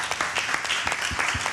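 Audience applause at a professions-day panel event, a dense steady patter of clapping that holds throughout at moderate loudness, with no talk over it.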